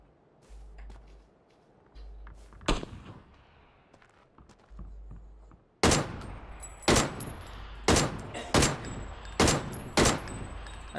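Gunfire in the PUBG battle royale game: one sharp shot early on, then a rapid string of six or seven loud, evenly spaced gunshots, with faint footsteps and rustling between them.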